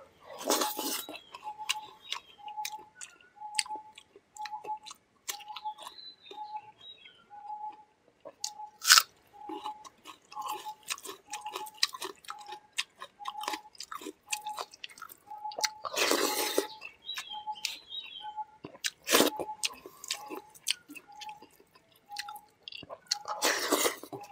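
Close, steady chewing of rice with fried potato and pumpkin, soft wet bites and crunches repeating through the meal, with occasional clinks of a plate or utensils and a faint repeating tone in the background.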